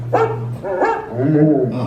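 A dog barks a few times with whining, yip-like notes at a theme-park attraction, the barks mixed in among voices and a steady low hum.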